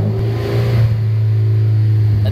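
A Subaru engine being revved with the car stationary, likely during an AVCS fault check: a loud, close, sustained mechanical drone that holds steady with a strong low hum.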